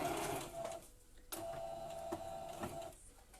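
A sewing machine runs a quarter-inch seam on a fabric bowl cosy, giving a close, steady mechanical whir with a brief stop and restart partway through.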